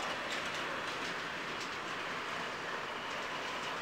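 A CSX freight train with TTX cars rolls past at a steady pace, producing a continuous broad rumble and hiss with faint rhythmic wheel clicks over rail joints, fairly distant and even in level.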